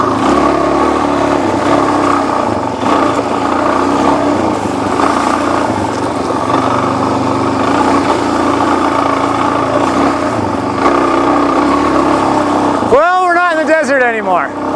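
A Suzuki DRZ400 dirt bike lugs at low revs up a steep off-road hill, a steady, loud, throbbing engine drone that holds without a break, with a brief rising whine near the end.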